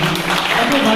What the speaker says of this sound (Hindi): एक बार उसके लिए जोरदार तालियां हो जाए